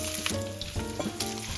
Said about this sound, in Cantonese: 去炒呢啲燒肉嘅時候呢，我哋個火唔可以太細㗎